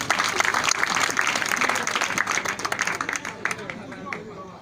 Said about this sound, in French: il applaudit encore une fois.